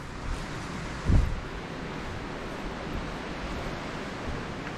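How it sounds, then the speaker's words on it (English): Steady wind buffeting a microphone outdoors in a Cornish valley, a broad continuous rush with one brief low gust thump near the start. "You can obviously hear the wind rattling around me."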